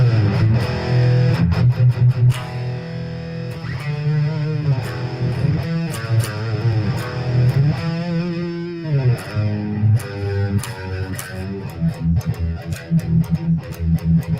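An instrument is played through a distortion effect during a live sound check, giving a sustained, gritty, buzzing tone with shifting notes and choppy bursts throughout.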